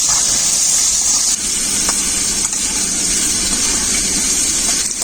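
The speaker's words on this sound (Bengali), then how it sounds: "ভালো করে ভেজে নেব আলুগুলো।" Diced potatoes with salt and turmeric frying in hot oil, a steady close hiss and sizzle holding evenly throughout with no talk.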